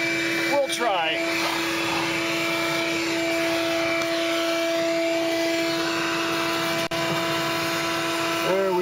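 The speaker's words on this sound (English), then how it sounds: "Alright, let's get on with some vacuuming." A Tube Bee vacuum runs loud and steady with a constant whining hum, sucking up bees; a voice is briefly heard near the start under the motor noise.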